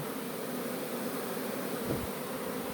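Honeybees buzz thickly in front of an apiary hive, a dense continuous drone from many insects close by and fairly loud, with no talking.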